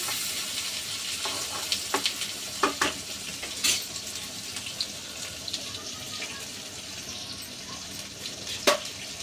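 Garlic cloves frying in a pan for egg and brinjal fry: a soft, continuous hiss of oil with occasional sharp pops and utensil taps, close and fairly quiet, with no talking.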